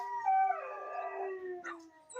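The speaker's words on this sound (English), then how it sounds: "My neighbor's dogs are barking," A dog howls in a long, wavering, tonal cry that slides in pitch, followed by a brief higher yelp; fairly close and loud, with no talking.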